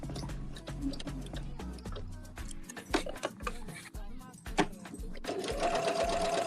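A domestic sewing machine runs in short stitching bursts with pauses between, close and fairly quiet, ending in a steadier run, while a person talks in the background.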